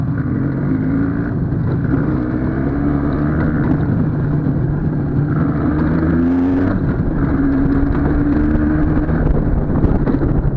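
Motor vehicle cruising on a return ride, a loud steady engine drone with gear-like pitch shifts and wind buffeting throughout, no talk.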